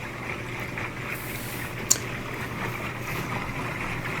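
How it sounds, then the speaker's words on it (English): A Whirlpool-made KitchenAid washing machine agitates with a muffled, continuous churning of water and a low motor rumble. One short clack stands out partway through, and no one speaks. "There we go, there's agitation."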